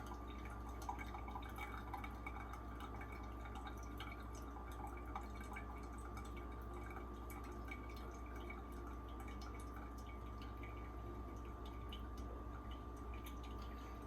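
Water from a pour-over coffee brew trickles and drips steadily at a low level, a faint continuous pour with a soft hum underneath.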